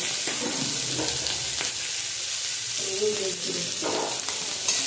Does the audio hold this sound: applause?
no